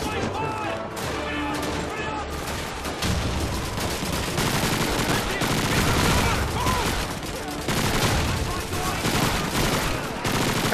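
Rapid PPSh submachine gun fire in Call of Duty 2, loud sustained automatic bursts one after another with explosions and battle noise, a voice talking over the combat.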